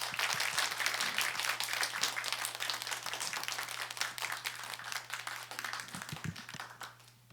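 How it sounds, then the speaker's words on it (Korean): A church congregation applauds warmly to welcome a pastor, sustained dense clapping from a modest crowd that gradually fades out near the end. "우리 나오실 때 뜨겁게 우리 박수로 환영하겠습니다."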